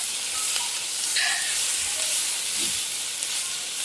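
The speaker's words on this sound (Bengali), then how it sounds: "এটা খুব সুন্দরভাবে ভেজে নিচ্ছি" Chickpea lentils frying with ginger-garlic paste and cumin in a pan, a soft continuous hiss of sizzling oil with faint occasional stirring clinks, fairly quiet and without talk.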